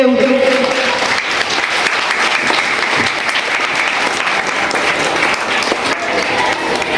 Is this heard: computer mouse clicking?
no